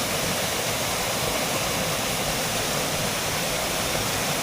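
Ambon-Ambon waterfall in Tagaytay, Cavite, running brown with muddy water, heard as a constant dense broadband roar of falling water, steady and close with no voices.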